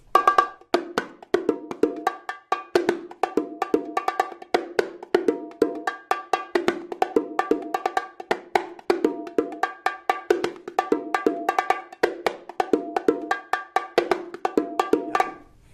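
A Mozambique-style rhythm played on bongos, with crisp, sharp strokes repeating in a steady, syncopated pattern; close, moderately loud, and unaccompanied for about fifteen seconds.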